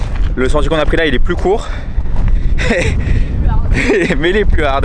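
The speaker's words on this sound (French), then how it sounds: "J'espère que vous allez bien m'entendre avec le vent, parce que là il y a un vent de fou furieux." Strong gusting wind buffets the microphone on a steep mountain trail near the Rocher de Roquebrune, a constant low roar under someone speaking French throughout.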